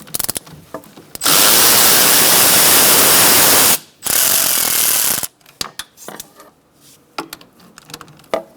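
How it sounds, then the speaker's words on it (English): A 12mm long socket on a ratchet loosens brake hose bracket bolts on a 2002-2006 Honda CR-V rear hub, giving loud, close, sustained clicking bursts with a brief pause, then scattered lighter clicks and handling noises. "using a 12mm socket, long socket, I'm going to loosen up these two bolts for the brake hose bracket"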